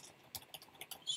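Sparse clicks of typing on a computer keyboard while entering a plugin search term, several separate light taps spread over about a second, close and quiet.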